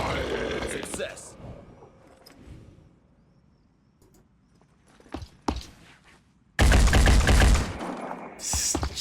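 Gunfire in the turn-based tactics game Phoenix Point: a loud sustained burst of shots erupts late and overwhelms everything, after quieter scattered impacts and soft game ambience, with a final sharp crack at the end.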